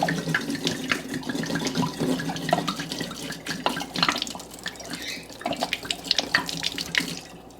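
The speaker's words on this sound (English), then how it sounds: "Dump out your water." Water poured and dumped out of a glass jar into a sink, a continuous splashing, gurgling pour heard close by without talk.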